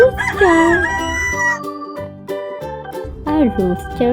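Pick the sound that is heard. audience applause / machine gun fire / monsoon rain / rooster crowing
rooster crowing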